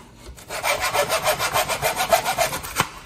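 Wooden pieces for a model horse cart are hand-sawn at the ends, a close, steady back-and-forth rasp of about a dozen even strokes with no talking.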